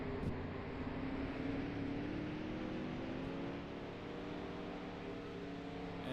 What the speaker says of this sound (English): We watch all the cars start to roll out.